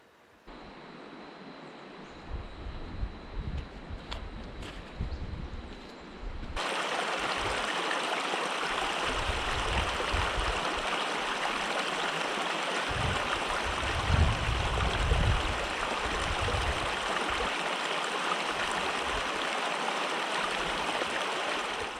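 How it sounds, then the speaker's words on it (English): The Snowy River in Snowy River National Park flows with a steady, broad rush of water. The sound is quieter for the first few seconds, then becomes loud and continuous, with no voices. "Mighty Snowy River."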